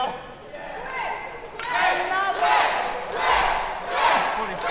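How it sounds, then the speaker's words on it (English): A crowd cheers at a pro wrestling event in Malta, with loud roars and shouts rising in waves throughout and no clear speech over them. "As the Maltese crowd cheers for the Maltese gladiator"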